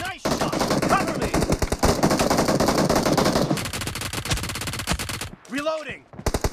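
Rapid automatic gunfire in PUBG Mobile during a team deathmatch, loud and continuous bursts of shots for several seconds, then a brief pause, a whooshing game effect and a few more shots.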